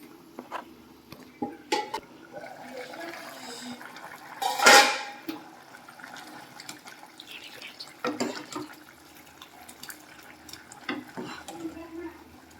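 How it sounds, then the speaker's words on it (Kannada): A lid clatters onto a pot of village-style okra sambar, followed by lighter clinks of metal cookware and utensils in a home kitchen, with brief soft sounds of handling before and after. "ಇವಾಗ ಇನ್ನು ಬೆಂಡೆಕಾಯಿ ಬೇಯಬೇಕು, ಮುಚ್ತಾ ಇದ್ದೀನಿ"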